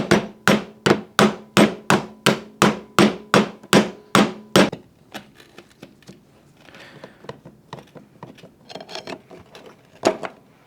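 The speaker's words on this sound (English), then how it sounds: "just tapping a little bit around the perimeter of this" A hammer taps a seized Cyclemaster engine part around its perimeter, about a dozen sharp, evenly spaced metallic blows in quick succession, followed by quieter scraping and clinking handling noises.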